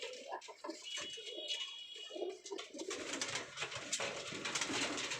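Low cooing comes from pigeons in a home loft amid fluttering and rustling, growing into a dense, busy wash of bird sounds in the second half.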